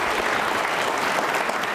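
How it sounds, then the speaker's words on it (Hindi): Steady, dense audience applause at an Independence Day quiz show with NCC cadets, sustained throughout without pause. "एक बार तालियां बजाइए मैम के उद्गारों के सम्मान के लिए"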